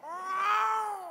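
A single drawn-out cat meow in a kitchen, rising and then slowly falling in pitch, clear and fairly close with nothing else over it.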